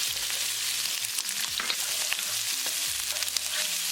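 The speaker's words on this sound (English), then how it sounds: "And we're going to keep sauteing onion." Onion sautéing in a pan with ginger, garlic and green chili for a vegan French beans dish, a continuous close sizzle and crackle with faint scrapes of stirring.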